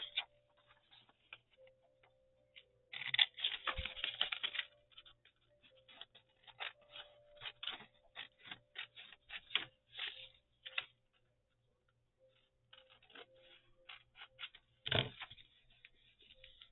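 Scissors cutting out a paper page topper pocket, quiet irregular snips and clicks in short bursts with pauses between.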